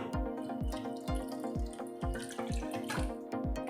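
Water pours in close up into a rice flour mixture with a regular series of gurgling glugs, steady and fairly quiet.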